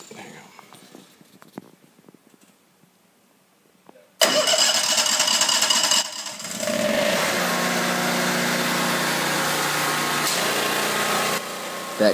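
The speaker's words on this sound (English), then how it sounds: "That click you just heard was the transfer switch transferring to the generator power" Kohler standby generator starting up, a sudden loud engine roar that settles into a steady running drone with a shift in tone, preceded by faint quiet clicks; a person talks.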